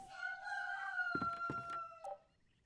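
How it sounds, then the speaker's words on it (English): A rooster lets out a single full crow, loud and fairly close, with a choppy middle section, ending in a short cluck before quiet. "All right, Mr. Rooster."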